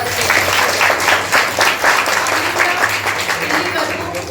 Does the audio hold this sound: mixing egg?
no